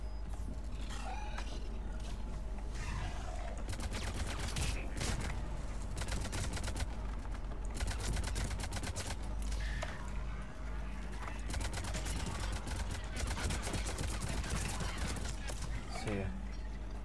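Mass Effect 3 combat gunfire: dense, continuous bursts of shots and impacts throughout, with a voice talking over the action.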